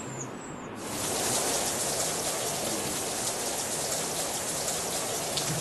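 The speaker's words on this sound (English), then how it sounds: "It's been raining for more than 10 days." Heavy rain pouring on Mount Fanjing in the rainy season, a dense steady hiss of drops that swells in after a brief quieter start and holds evenly, with no voices.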